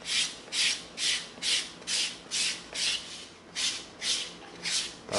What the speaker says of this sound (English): now we're gonna come in with our 220 sanding stick